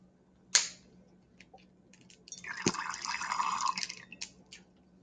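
Lemon juice poured into water in a small kitchen solubility experiment. A sharp tap comes first, then a brief knock, then a soft pouring trickle lasting about two seconds, quiet and close, with no talk.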